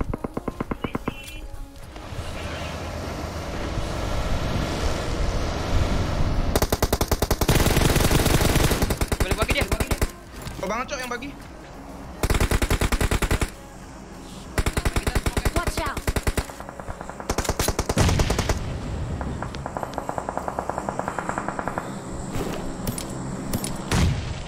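Gunfire in PUBG Mobile: dense bursts of rapid automatic shots alternating with short gaps and single shots, loud and close, with faint talk underneath.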